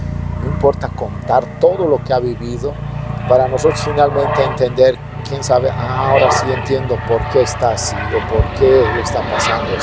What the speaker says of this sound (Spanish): Ese es un helicóptero, ¿no? Ese momento se escucha el ruido bien fuerte.